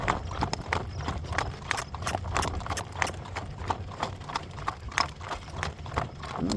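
Hooves of several horses clip-clop on a cool-morning walk, a steady, fairly close rhythm of distinct sharp knocks with a faint snort or whinny in the background.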